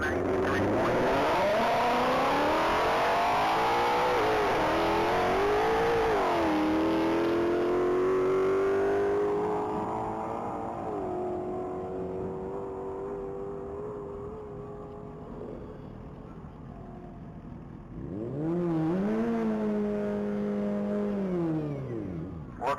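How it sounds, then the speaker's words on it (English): An orange 2020 Ford Mustang Shelby GT500 races at top speed at the Texas Mile, its engine loud and close as it climbs through the gears with rising shifts, fading slightly, then roaring back up. "That's Mark Murphy piloting his orange 2020 Ford Mustang Shelby GT 500."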